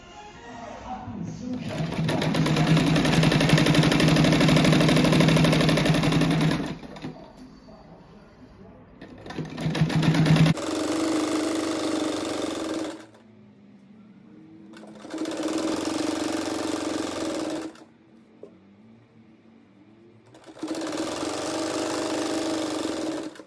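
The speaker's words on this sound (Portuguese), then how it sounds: "Eu vou costurar ele dobrado assim." A sewing machine stitching a folded edge on a tulip rug runs in loud steady bursts of several seconds, stopping and restarting four times with brief quiet gaps between runs.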